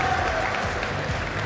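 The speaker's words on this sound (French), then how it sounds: "Vous pouvez encore l'applaudir, s'il vous plaît, parce qu'arriver quatrième" An audience at an esports final for a Trackmania student series applauding the fourth-place finisher, a brief dense burst of clapping from a crowd.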